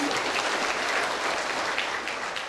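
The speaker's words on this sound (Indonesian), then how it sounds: "Mari kita tepuk tangan untuk kemuliaan" A church congregation claps steadily and enthusiastically during a Sunday worship service, a dense, continuous patter of applause throughout.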